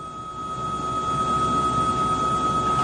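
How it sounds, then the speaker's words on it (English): A steady, droning helicopter rumble with a constant whine runs throughout in the background, heard at a distance, unchanging and moderately loud. "you can hear the helicopter sound in the background"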